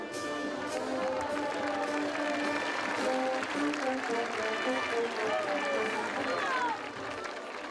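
A large crowd at a bullfight applauds a horsewoman steadily, continuous clapping filling an arena with overlapping voices and cheers under it.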